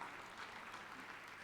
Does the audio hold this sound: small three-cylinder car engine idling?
no